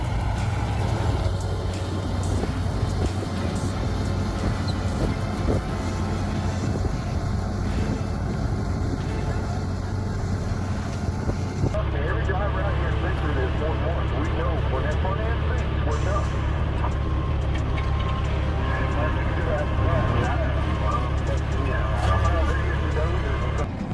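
Two bulldozers shove a stuck truck together, their diesel engines roaring in a steady, loud, continuous rumble that runs the whole time, with a shift partway through to a slightly different engine tone.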